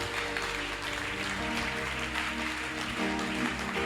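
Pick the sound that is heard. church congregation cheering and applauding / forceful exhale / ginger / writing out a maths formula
church congregation cheering and applauding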